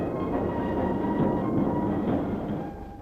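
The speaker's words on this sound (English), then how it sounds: "Now one electric loco hauls, while another just nudges the train up the steepest section." Electric locomotive hauling a train up a steep incline on a 1950s British railway, giving a steady, dense rolling rumble of wagons and wheels that holds for the whole stretch and eases off slightly at the end.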